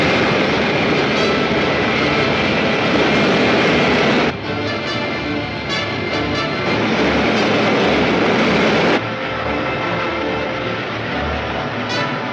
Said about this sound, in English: Fire main rocket.